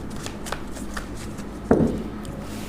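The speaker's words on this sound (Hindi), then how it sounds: "ये हो गया शफल।" A deck of tarot cards is shuffled by hand up close. The soft, continuous riffling ends in a sharper slap partway through.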